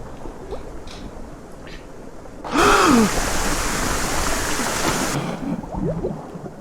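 Character diving into water in a horror adventure game, a sudden loud splash and rush of churning water that runs about three seconds, with a gasping voice at its start, before dropping back to quiet ambience.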